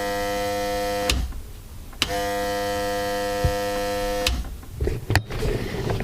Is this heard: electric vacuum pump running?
yes